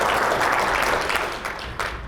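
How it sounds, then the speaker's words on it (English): Audience applause fills a hall at a policy event on oral appliances, steady dense clapping from a large crowd that tapers slightly toward the end, close and loud throughout. "give a big shout out and applaud all the individuals who did all that work last year"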